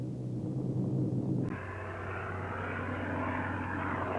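A propeller aircraft engine of the Ju-86 bomber era drones steadily and loudly, its pitch and tone shifting abruptly partway through, then holding a constant roar with no voices.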